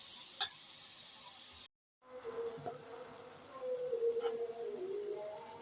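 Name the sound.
sautéing chicken liver and onions in a pan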